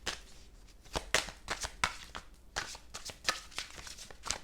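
Fairy oracle cards being shuffled by hand, a steady run of soft riffling slaps and papery flutters, close and quiet with no talk.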